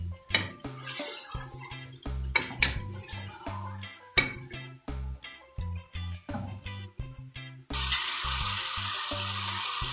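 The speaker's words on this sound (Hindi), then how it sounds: "अब हम गोश्त को उतनी देर भूनेंगे जब तक ये इसका कलर चेंज हो जाएगा।" Beef pieces brown in a pot for beef nihari. Loud sizzling sounds alongside repeated spoon clanks and scrapes against the metal, ending in a strong, continuous hiss.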